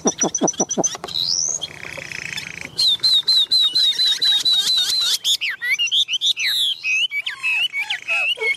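Tame Chinese hwamei songbird singing loudly and close, opening with rapid sharp notes, then a long run of repeated whistled phrases and varied sweeping trills that continue throughout.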